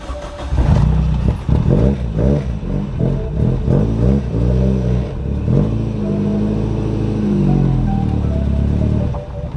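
A Toyota Corolla with clutch trouble, its engine revved hard in several rising and falling bursts near the start, then settling into a steady, loud idle drone up close.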